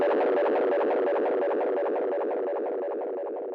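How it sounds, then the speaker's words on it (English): Delay echo repeats feeding back and self-oscillating into a dense, smeared wall of repeating tones that slowly dims and darkens, steady and continuous with no voice. "if you push the repeats even more, they start to feed back and self-oscillate"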